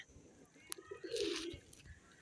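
Pet pigeons coo softly in a short, low, throaty burble with a faint chirp and scattered background noise; no talking.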